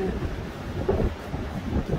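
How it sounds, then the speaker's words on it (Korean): Ocean waves at Garindol on the coast of Aewol, Jeju, a steady low rumbling wash that sounds close and fairly loud, with no clear individual breaks, somewhat like thunder or wind. "가린돌 그 파도 소리"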